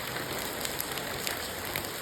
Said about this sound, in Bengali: সেরকম বৃষ্টিও হচ্ছে